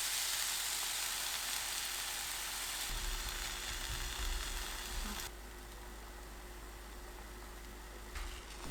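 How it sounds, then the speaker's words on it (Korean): Beaten egg poured into a hot pan over low heat with chamnamul spread in it, making a steady broadband sizzle that settles lower and calmer partway through, close and continuous with no voices. "계란 3분의 1을 부어주세요."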